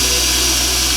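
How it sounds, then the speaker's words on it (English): Power drill boring a mounting bolt hole while fitting an Airbag Man 2-inch extended full air suspension kit, a steady loud continuous whine and grind filling the whole second with no talk. "drill the hole, and then we can get those 2 mounting bolts in there."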